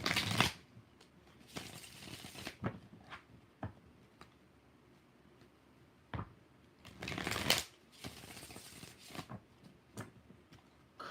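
Tarot cards shuffled by hand in several bursts of riffling and slapping, near and fairly quiet, with short pauses and small taps between them and no talking.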